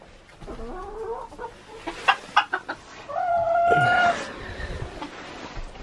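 Hens clucking inside their coop, a run of close, loud squawks and clucks followed by a drawn-out higher call, with quieter murmuring from the flock before and after.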